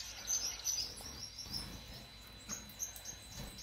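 Gouldian finches give soft, high, quick chirps and tweets in a small cluster, fairly faint and close, over a quiet indoor background with no talking.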